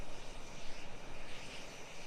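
Aircraft engines in a flight combat game: a steady, faint droning hum of propeller engines, continuous and fairly distant, with no talking.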